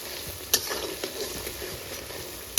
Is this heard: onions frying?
yes